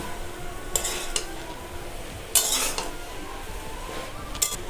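Taro leaves (kochu shak) being stirred with salt in a pan, with a few sharp utensil scrapes and clinks against the metal over a steady low background, no talk.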